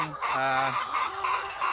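Chickens cluck nearby in a short, busy flurry of calls, one bird's voice rising above the others.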